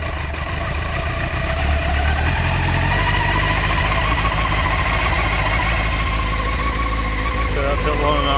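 A Honda CBR600 motorcycle engine in neutral idles with the choke on during a restoration, a steady close rumble running throughout while someone talks over it.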